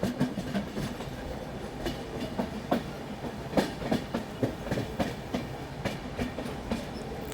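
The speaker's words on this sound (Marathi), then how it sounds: "मालगाडी चालली आहे ॲक्च्युली भरून" A loaded freight train rolls along the Konkan Railway tracks, its wheels beating a steady clickety-clack rhythm over the joints, loud and close, with no voices.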